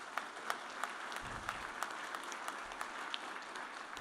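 An audience claps steadily at a discussion event, a dense patter of many hands with sharper individual claps, moderately distant and sustained throughout.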